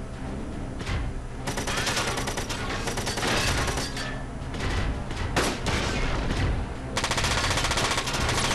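Sustained gunfire from a Front Mission 4 video game attack, a dense, loud machine-gun roar with bursts and booms layered over continuous game audio, no voices.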